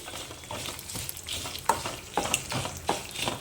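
Sesame seeds roasting in a pan for a chutney, a soft continuous crackle with irregular scraping stirs and a few louder pops, close and without any voices.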